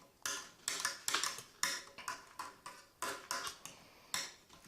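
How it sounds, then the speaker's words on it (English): A spoon or paddle stirs rhubarb wine and yeast in a container for a 55-gallon batch at Terra Bella Farm, making about a dozen close, bright clinks and scrapes in an uneven rhythm. "So anyhow, I'm going to get this stirred here."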